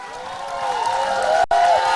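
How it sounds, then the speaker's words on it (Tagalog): A live studio crowd cheers and applauds for host Willie Revillame, a steady wash of clapping and shouting that stays loud throughout, with a brief dropout near the end. "Mga kaibigan, palakpak na may sigawan para sa nag-iisang The Famous Willie Revillame"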